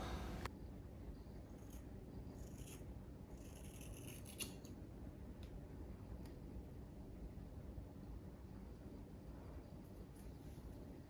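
Scissors trimming hair at home, giving a few quick, crisp snips in a cluster early on, then fading into a steady low rumble with no voices.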